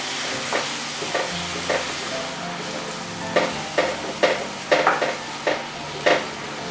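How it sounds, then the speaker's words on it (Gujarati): Yogurt stirred into soft tomato-onion gravy in a pan with a low sizzle throughout, punctuated by repeated scraping strokes of a spoon that grow louder and more frequent toward the end; no one talks. "ફરી બધું મિક્સ કરીએ।"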